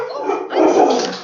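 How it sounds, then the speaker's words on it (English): A pup barking at a cat in a backyard, one continuous loud bark-like yelp heard up close with no talk. "I'm home today with a pup who just is trying to protect me from a vicious cat in the backyard"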